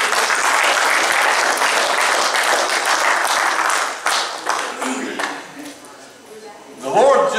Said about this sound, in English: Give the Lord a hand clap and pray.